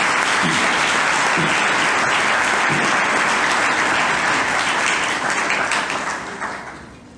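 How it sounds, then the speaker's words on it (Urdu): A church congregation at an Easter service claps loudly and continuously, a thick, dense roar of applause that holds for several seconds before fading out near the end. "اس زندہ یسوع مسیح کے لیے زوردار تالیاں بجائیں۔"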